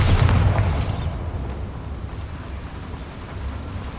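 A Bombarda explosion spell going off in the Hogwarts Legacy video game, a loud booming blast at the start that fades into a long rumbling tail.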